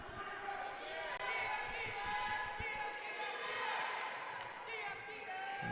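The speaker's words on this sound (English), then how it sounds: "Good crowd here, making a lot of noise" A crowd at a women's Mountain East Conference college basketball game keeps up steady cheering and noise, with ball bounces and squeaks beneath and a commentator talking over it.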